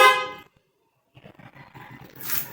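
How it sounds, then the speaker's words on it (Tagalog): A Rusi Gala motorcycle's passing horn gives one short, loud honk up close, followed by a pause and then low mechanical rattling and handling noise. "Pag naka-low beam, pwede tayo mag-passing horn."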